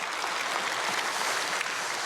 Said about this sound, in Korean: 이렇게 좋으신 주님께 영광의 박수를 한번 올려드리겠습니다.